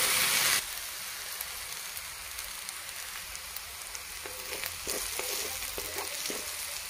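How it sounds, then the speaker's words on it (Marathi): Chopped onion for a quick onion-tomato chutney fries in hot oil in a pan, giving a steady soft sizzle with a few light clinks of a spoon toward the end, and no voices. "कांदा छान लाल तळून घ्यायचा।"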